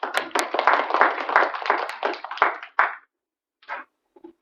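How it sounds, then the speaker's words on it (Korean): Audience applause at a Korean anti-nuclear debate forum welcoming a speaker to the podium: dense, steady clapping from a crowd for about three seconds, then a few scattered late claps trailing off into silence. "박수로 모시겠습니다."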